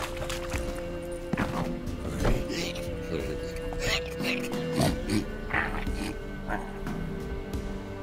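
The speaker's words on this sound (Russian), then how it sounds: "Похоже, свиньи и правда заколдованные." Enchanted pigs oinking and grunting in The Witcher 3, several short snorts scattered over steady game music and ambience, mid-distance and moderately loud.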